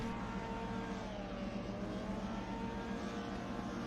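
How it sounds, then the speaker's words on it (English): Race car engines idle and rev together at the start of an all-star race, a steady, distant-sounding broadband roar with layered engine tones and no clear individual passes. "I hear some engines revving."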